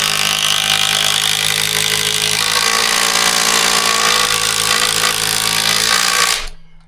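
A Metabo impact driver on a 3.0 battery drives a large lag bolt, a loud, steady, rapid hammering whir held close for about six seconds before cutting off abruptly.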